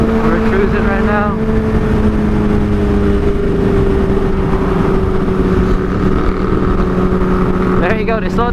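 Honda CBR600RR sport bike fitted with a TOCE exhaust cruising along a road, a steady, close engine drone held at an even pitch throughout, with brief voice bursts near the start and end.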